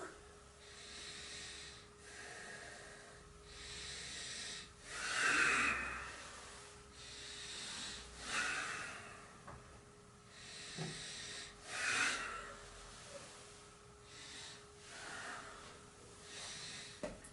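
Slow, deep breaths during a yoga session, each inhale and exhale audible as soft airy rushes repeating at a calm, regular pace, fairly close and quiet with no talking.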